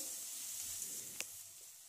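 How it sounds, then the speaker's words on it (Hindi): Peas and onion sauté in a pan with a soft, steady sizzle and a faint stir click, heard close and alone without talk. "इसके साथ मैं इसको एक से दो मिनट तक सौते कर लूँगी ताकि हल्का सा मटर सॉफ्ट हो जाए"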